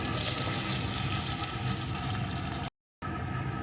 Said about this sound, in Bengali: এখন এই তেলের ভিতরে দিয়ে দেবো আমি পেঁয়াজ কুচি